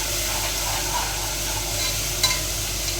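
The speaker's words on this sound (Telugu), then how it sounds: "అల్లం వెల్లుల్లి పేస్ట్ మాడి పట్టకుండా ఫ్రై చేసుకోవాలి" Ginger garlic paste fries in a pressure cooker with a soft, steady sizzle while a spoon stirs it, giving a faint scraping texture and a single small clink near the end.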